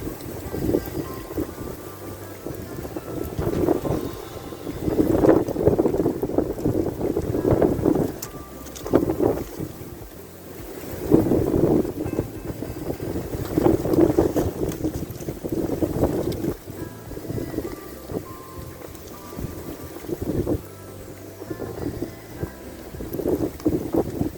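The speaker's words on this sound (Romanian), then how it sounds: "Bate vântul foarte tare pentru că suntem pe deal." Strong wind blowing on a hillside in early spring, a continuous rushing roar that buffets the microphone in heavy, uneven gusts, with no voices.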